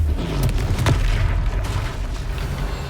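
A Confringo explosion spell going off in the Hogwarts Legacy video game: a loud, dense burst of booming blast noise with a rumbling low end that fills the whole stretch without a break.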